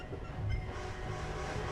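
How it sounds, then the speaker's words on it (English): A train in Red Dead Redemption II approaching on a railway bridge: a steady, fairly loud rolling rumble of wheels and cars that swells briefly and then holds without pause. "A train!"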